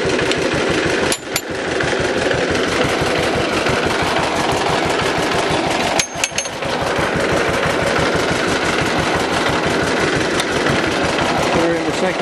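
A John Deere BW tractor engine runs close by with a rapid, loud, steady chugging beat. Two brief clanks break in, and faint voices are heard under the engine.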